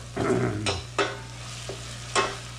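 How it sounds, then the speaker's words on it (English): Oil being stirred in a pan as a home-made BBQ sauce is started, giving a few separate scraping strokes with a faint sizzle and a steady low hum beneath, close and fairly quiet. "We'll just stir this around, and the oil will give us a little bit of more of a base for"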